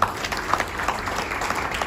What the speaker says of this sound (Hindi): पंकज अहिरवार सर का कि वो हमारे ज़ोरदार तालियों से स्वागत किया जाए